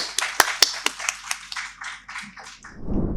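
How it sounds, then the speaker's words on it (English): A small audience claps for the dean at the inaugural session of a scholarly regional hub event in Pakistan: a few sharp, scattered claps that thin out and fade within seconds. "Please, a round of applause."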